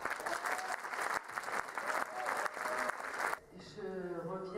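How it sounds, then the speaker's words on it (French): An audience at a film festival opening ceremony applauds, with loud, sustained clapping for over three seconds before it drops away and a speaking voice takes over. "On peut l'applaudir."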